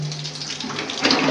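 A household tap runs steadily, a continuous splashing water stream that swells slightly louder near the end, with a low hum underneath and no voices.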